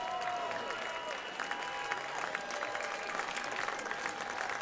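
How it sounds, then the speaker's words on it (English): A baseball crowd applauds a Boise Hawks player leaving the game with a hand injury, a distant, steady patter of clapping from the stands beneath a sustained tonal hum of stadium ambience. "Good applause from the crowd here"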